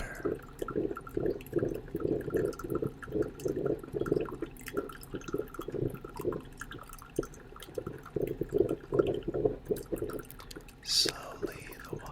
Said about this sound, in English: Listen to the sound of the coffee maker as it drips slowly into the glass